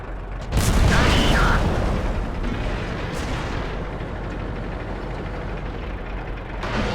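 A tank cannon fires in the World of Tanks video game, one sharp, heavy boom up front followed by a second, fainter shot, over a constant rumble of engine and game sound.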